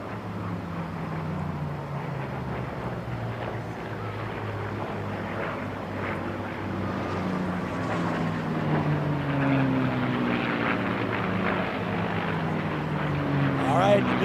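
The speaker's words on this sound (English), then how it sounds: "It looks like we have a P-63 coming by next. We'll be quiet so you can hear that sound." A P-63 fighter plane at an air race drones past as a steady propeller-engine roar, its pitch sliding downward and the sound growing louder toward the end.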